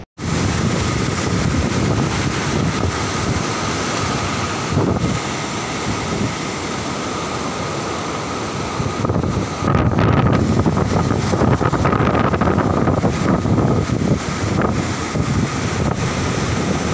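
The flooded Mand River near Raigarh, Chhattisgarh, roars past a bridge in a dense, continuous rush of high water, heavily buffeted by wind noise on the microphone, with no voices.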